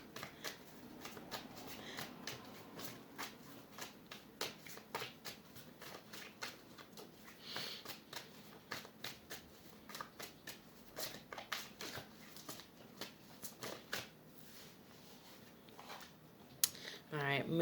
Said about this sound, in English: I'm going to pull one more card.